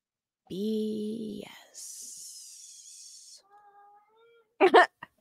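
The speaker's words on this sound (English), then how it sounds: "That's just my cat." A house cat lets out a drawn-out, close meow near the start, followed by breathy hissing and faint squeaks, then a couple of short sharp bursts at the end.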